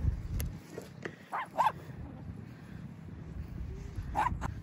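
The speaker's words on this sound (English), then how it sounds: "No need to bark." A dog gives a few short barks and yips at a park in South Korea, with two quick clusters early and another near the end over a quiet outdoor background.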